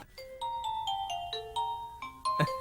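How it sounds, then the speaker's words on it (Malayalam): A mobile phone plays a melodic ringtone of bright, evenly spaced chiming notes that step up and down. It ends in a sharper burst, with no voices over it. "It's ringing."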